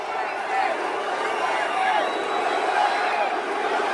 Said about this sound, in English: Look at this crowd that showed up for Donald Trump yesterday